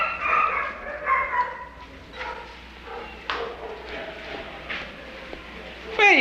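Dog barking in a police station, several short barks and yips spread through the clip, mixed with people talking and background commotion.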